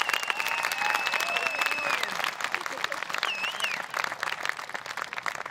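A room full of people at a high school graduation applauds steadily, dense clapping holding for several seconds before thinning slightly, with a few faint whistling tones above it.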